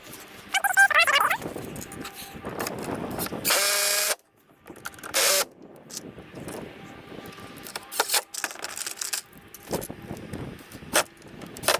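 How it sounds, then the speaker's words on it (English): A power drill pre-drills holes in plywood for mounting casters on a scrap-wood storage cart, heard as several short, loud whirring bursts with clicks and handling noises between them. "Now I'm going to pre-drill my holes and go ahead and attach the casters."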